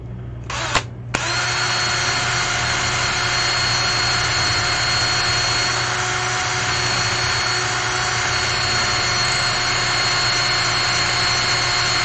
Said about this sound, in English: Almost drilled my hand off.